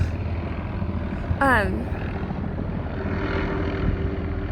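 Helicopters fly over a residential neighborhood, a continuous low rotor drone with a brief high whine partway through, no one speaking.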